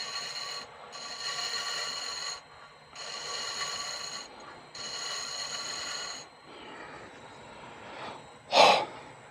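A carbide cutter shapes a pottery piece spinning on a woodturning lathe, giving three sustained scraping, rasping passes of a few seconds each with short pauses between, then a brief louder scrape near the end.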